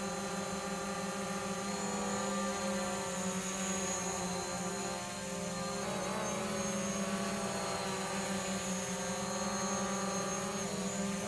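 A DJI Mavic Pro drone hovers and spins nearby, its propellers producing a loud, steady, high-pitched buzzing whine that holds constant throughout with only a slight shift in pitch midway.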